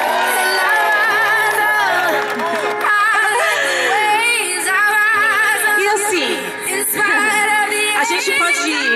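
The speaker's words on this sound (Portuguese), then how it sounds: "Uma salva de palmas porque ele merece, viu?" A lively crowd cheers, whoops and shouts in a loud, continuous din during a romantic surprise celebration, many voices overlapping throughout.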